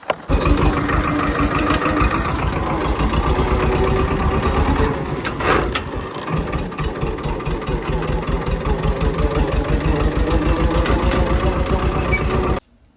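A tractor engine running close and loud, a steady low chugging throb that dips briefly midway and then carries on evenly before cutting off at the end.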